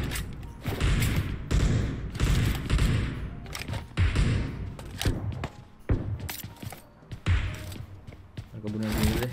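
Mini14 rifle gunfire in PUBG Mobile, sharp repeated shots in uneven bursts with heavy thumps, close and loud, while people talk over the action.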